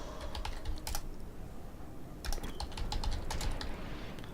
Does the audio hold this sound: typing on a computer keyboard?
yes